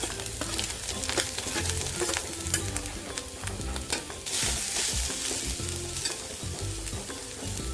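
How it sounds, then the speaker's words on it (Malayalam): Grated coconut hits hot coconut oil in a pan and is stirred, a close, steady crackling sizzle with scraping and clinking of the utensil throughout. "ഈ നാളികേരം ഇതിലിട്ട് കൊടുക്കാം"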